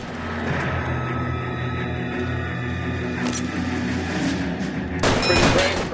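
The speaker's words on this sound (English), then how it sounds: "Another one shooting at me." Gunfire in the L.A. Noire video game on PS4: a sustained, loud barrage of overlapping shots with rattling bursts, climaxing in a sharp, bright volley near the end.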